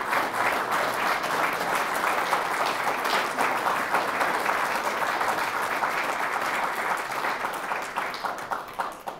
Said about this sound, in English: I asked you to hold your applause.